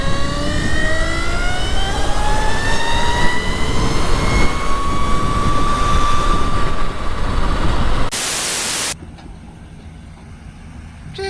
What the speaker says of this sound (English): now with super realistic speeder bike sounds